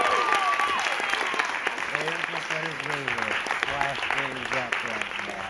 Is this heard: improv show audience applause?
yes